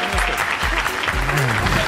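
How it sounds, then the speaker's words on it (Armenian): Steady, dense applause from a studio audience at an Armenian comedy show, continuous and loud throughout with some voices mixed in. "Բարվեց ժամանակը, ձեր ծափահարությունները"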